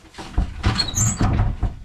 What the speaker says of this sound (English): Your door seems to have jammed.